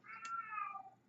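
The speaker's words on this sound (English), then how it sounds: "my other cat is unhappy" A single faint, plaintive cat meow, drawn out and sliding downward in pitch over about a second, heard alone in a quiet room.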